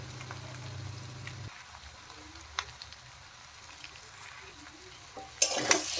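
Jackfruit and prawn curry with potatoes is stirred in a pan, a soft steady sizzle and frying hiss with a few spoon scrapes and a louder clatter near the end, no voices.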